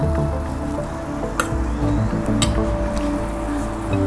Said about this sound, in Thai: ผัดให้กุ้งเริ่มสุกหน่อยนะคะเติมน้ำไปหน่อยนะคะ